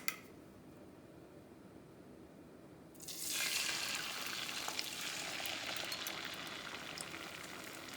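Beaten eggs for a Southwestern cheese omelette hit a hot pan after about three seconds of quiet, breaking into a sudden, bright frying sizzle that holds steady and close with small crackles scattered through it.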